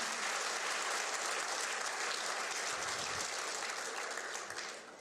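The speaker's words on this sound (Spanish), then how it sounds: "Le da un aplauso ahí a la palabra del Señor." Church congregation applauding the word of the Lord at a sermon, a full, continuous roar of clapping that holds steady and tapers slightly at the end.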